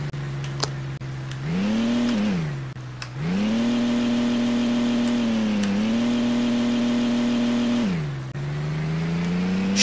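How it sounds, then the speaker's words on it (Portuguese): Car engine in the Roblox game Taxi Boss revving repeatedly, pitch climbing and holding then dropping several times in a loud, steady synthetic drone with a few clicks, no talk. "O som do motor já ficou bonito"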